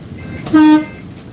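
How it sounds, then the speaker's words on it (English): A single loud train air horn blast, heard from the cab in a rail yard, sounds for about a quarter second, a steady tonal honk rising above low background rumble, then fades back to ambient noise. "And we have got an air horn."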